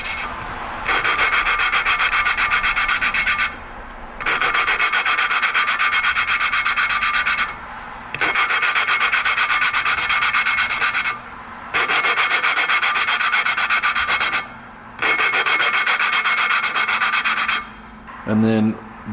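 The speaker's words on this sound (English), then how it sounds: "I'll sit here and grind it until it's like it's not getting gritty at all anymore" Valve on a 1995 Kawasaki KLX250 being lapped by hand against its seat: a loud, gritty rasping rub repeated in long strokes, with short pauses between bursts and a faint tap near the end.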